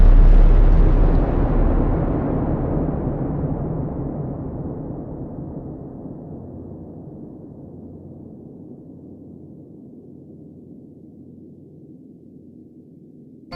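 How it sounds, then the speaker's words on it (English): A massive atomic bomb blast rolls out as one huge booming explosion with a long, slowly fading rumble that dies away over more than ten seconds, with no voices. "they haven't used the bomb yet and are curious to see if it works, so they drop it on Japan"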